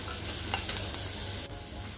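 Finely chopped capsicum sizzles steadily in a hot pan for a soya fried gravy momos dish, a continuous close hiss with faint stirring scrapes and no voices.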